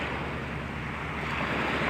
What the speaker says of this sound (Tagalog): Yung hampas ng alon sa dalampasigan.